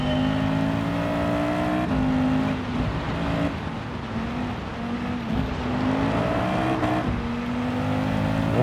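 A race car engine drones in Gran Turismo 7 at the start of a dirt race, loud and sustained with gear shifts stepping the pitch up and down, no talking over it.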